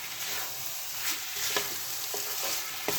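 Potatoes coated in poppy seed paste are stirred in a pan with a quiet, steady sizzle, broken by a few soft scrapes and taps of the spoon against the pan, with no one talking.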